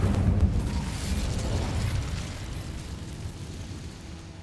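An Incendio fire spell explodes in Hogwarts Legacy with a loud, broad rumbling whoosh at the start that slowly decays into a steady, fading roar.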